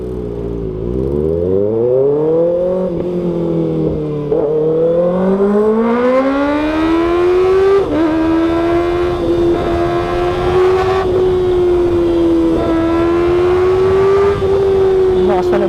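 A Kawasaki ZX6R sport motorcycle engine revs loudly and continuously, its pitch climbing through the gears as it accelerates, with a rider's voice faintly under the roar.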